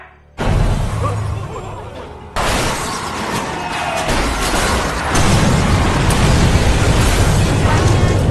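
A loud crash-like boom bursts in early, then a second heavy impact follows, with sustained rumbling noise and faint voices underneath.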